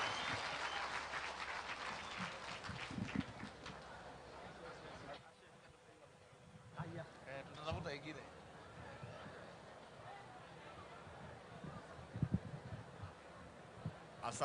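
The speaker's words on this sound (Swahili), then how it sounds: "tusimame tupige makofi" A crowd at an outdoor political rally in Kajiado applauds while standing to welcome the deputy president, sustained clapping at first that fades after about five seconds into murmuring voices and scattered claps.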